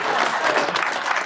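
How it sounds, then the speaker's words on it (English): Applause from a gathered audience at a swearing-in ceremony, a steady wash of many hands clapping that fills the short moment at even loudness without a clear break. "Give a big round of applause to Paul Drinkwater for turning the lights off."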